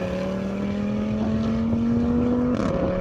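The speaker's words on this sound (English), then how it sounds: "that naturally aspirated engine just does the business" Audi R8 with a naturally aspirated engine accelerating hard in a rolling race, a loud steady drone rising in pitch, then a brief break at a gear change before it pulls on again.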